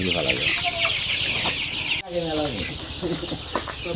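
Sonali hens kept loose in a room on a low-cost poultry farm cluck and squawk continuously, a busy close flock with overlapping calls and no one talking.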